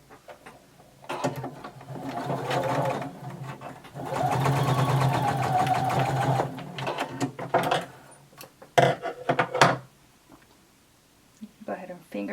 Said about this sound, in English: we're going to start to sew our necktie